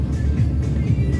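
Road traffic in Metro Manila, near EDSA Kamuning with motorcycles around, gives a brief, steady low rumble of engines close by, with no clear speech.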